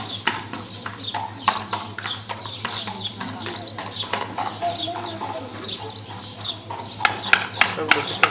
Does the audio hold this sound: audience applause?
no